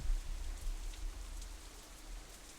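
Rain from the Katawa Shoujo visual novel, a steady dense patter of drops falling on a surface, evenly sustained with a soft low rumble and no talk.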